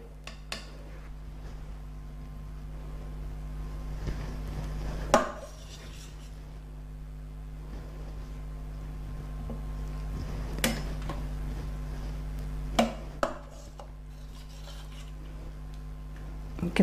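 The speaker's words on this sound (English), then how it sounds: "now we're going to get the potatoes out. I'm using a slotted spoon." A slotted spoon lifts soft cooked potatoes out of an Instant Pot, giving a few sparse, faint metallic clinks and scrapes against the pot over a quiet background hum.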